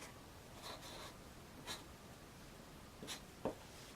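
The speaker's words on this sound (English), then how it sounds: "I'm just going to write certificate in cursive." A pen writing in cursive on paper, producing a few faint, short scratchy strokes with pauses between them in a quiet room.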